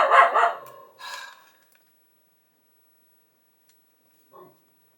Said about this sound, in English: she's sorry about the barking